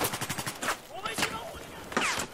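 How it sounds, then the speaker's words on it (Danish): Rapid bursts of gunfire in Battlefield 4, sharp repeated shots in quick rhythm, with a voice speaking over them. "Sindssygt de der skud"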